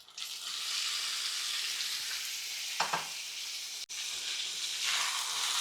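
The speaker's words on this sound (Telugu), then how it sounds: "నానబెట్టుకున్న తర్వాత ఆ నీళ్ళని తీసేసి చికెన్ మొత్తం కూడా ఇప్పుడు ఇందులో వేసేస్తున్నాను" Chicken pieces, soaked in salt water and drained, hit a hot pan for a spicy Indian chicken fry, giving a steady loud sizzle with a brief stirring clatter partway through and no talking.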